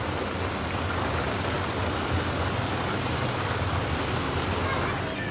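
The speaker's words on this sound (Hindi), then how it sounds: "बारिश की स्पीड आवाज़ आ रही है।" Heavy rain pours down steadily, a dense continuous hiss of water with no pauses, loud and close throughout, during a storm with thunder.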